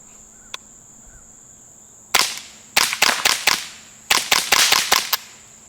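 Ruger Silent-SR suppressed rimfire rifle firing Winchester subsonic rounds, a run of about ten sharp, quiet snapping shots in two quick clusters, each crack followed by a short ring, against a faint insect-like background hum.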